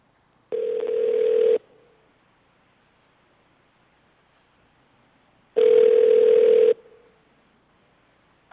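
Two steady telephone dial tones sound during a public assembly meeting call-in, each lasting about a second, separated by silence, clear and alone.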